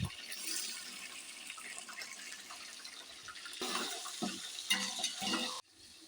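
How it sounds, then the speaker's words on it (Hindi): About half a cup of water pours steadily into a pot of garlic and tomatoes, a continuous close splashing stream that swells briefly before stopping abruptly. "टमाटर को सॉफ्ट होने के लिए आधा कप के करीब इसमें मैं पानी ऐड कर दूंगी"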